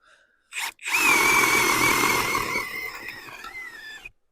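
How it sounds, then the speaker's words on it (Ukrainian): A Vitals PAU 1870 BS cordless drill-driver spins up and bores into hard ash wood on a stump, a brief rev then a loud sustained whine that strains and wavers as the bit cuts through. "Беремо свердління. 24 швидкість. Ясінь. Пробуємо."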